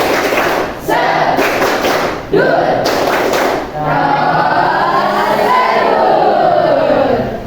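A group in an open teacher-training class performs a rhythmic clap chant, loud clustered claps in the first half, then voices chanting together in unison.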